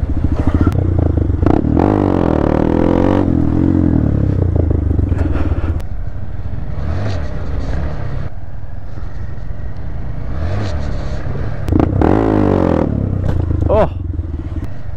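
Honda Grom motorcycles rev and pop up into wheelies while a slipping clutch makes the engine surge unevenly, loud and close, with people talking over the bursts of revving.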